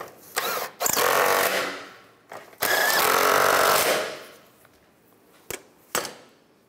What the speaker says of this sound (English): I'm gonna tighten these nuts up.